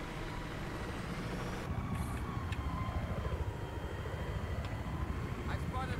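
A helicopter in the video game Battlefield 3 drones steadily with a low rumbling engine and rotor noise, fairly loud and continuous throughout.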